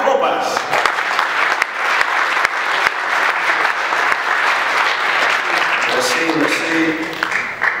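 Applause from club members for the head coach of a Montreal football club, steady moderate clapping with a few sharp close claps, while people talk over it toward the end.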